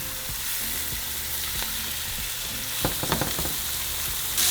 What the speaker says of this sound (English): we're going to grab our patties and we're going to cook them for 3 to 4 minutes on each side